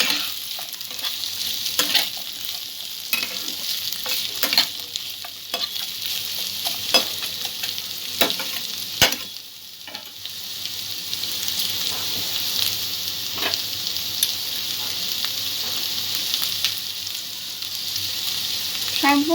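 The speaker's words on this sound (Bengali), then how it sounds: "গাজর আর ক্যাপসিকামটা দিয়ে দেবো। সব উপকরণগুলো একসাথে মিক্স করে নেব।" Bread pulao with carrot and capsicum is stirred and fried in a pan, a steady sizzle broken by repeated scraping and clattering spoon strokes, close and continuous.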